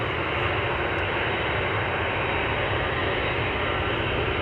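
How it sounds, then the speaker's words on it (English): Jet airliner engines at Amsterdam Schiphol Airport roar steadily and loudly, the broad rumble swelling as the aircraft turns its engines toward the listener, with no voices. "Can you hear that the airplane has turned towards us? The engines are facing us."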